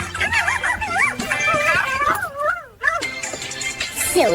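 A dog cries and whimpers in rising and falling howl-like whines, close and fairly loud, with a short pause near the middle before the whimpering resumes.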